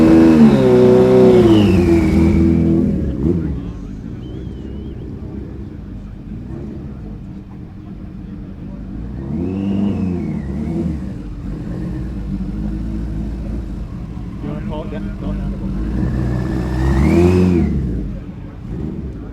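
A classic road motorcycle at a motorcycle show revs hard in repeated rising and falling bursts, its engine note swelling loudly at the start, middle and end as it is ridden off, with voices faintly in the background.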